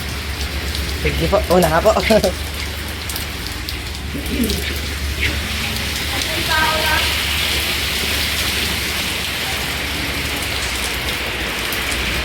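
Steady rain pours down on an outdoor hot spring pool area, a dense even hiss throughout, with people talking briefly over it near the start and middle.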